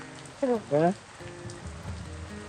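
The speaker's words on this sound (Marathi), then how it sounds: "पाऊस मस्त येतो यार" Rain falls on a monsoon trip to the Matheran hill station, a steady close hiss and patter of drops, with a brief voice near the start.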